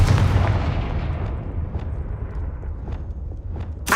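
A fire spell blast bursts loudly at the start and rumbles away into a fading roar in Hogwarts Legacy, with faint thuds and a sharp noise at the end.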